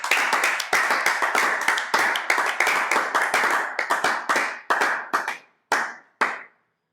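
A church congregation claps in rhythm during a French-language prayer broadcast, a loud, steady run of hand claps that thins out into a few final claps and then silence.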